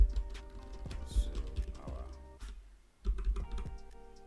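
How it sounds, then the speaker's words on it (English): Typing on a computer keyboard: a close run of quick, irregular key clicks with a brief pause partway through before the tapping resumes, and no talking. "I want to go there and type again"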